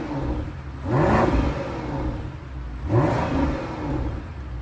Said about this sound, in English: the 4 exhaust pipes that we have that make an incredible sound.